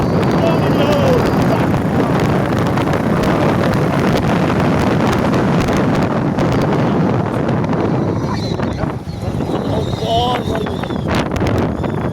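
A motorcycle rides at about 40 on a highway under construction, heard as loud, constant wind buffeting against the microphone that swamps any engine sound over the whole stretch.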